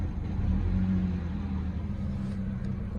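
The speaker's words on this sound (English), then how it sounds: "It still has the funny idle, but it doesn't make that clacking noise when the clutch is engaged." A BMW E90's engine idles with the clutch engaged, a steady low rumble heard up close without voices and no clacking standing out.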